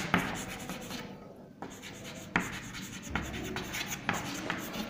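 Pen scratching across paper as a worksheet explanation about frog eggs is written by hand, with steady close rubbing strokes broken by short pauses, no voices.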